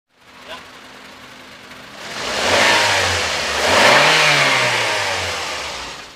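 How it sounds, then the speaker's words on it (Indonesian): A 2017 Daihatsu Gran Max pickup engine revs up hard from idle in two rising, roaring surges that hold loud and close before easing slightly. "Coba saya geber terus cek asap knalpot."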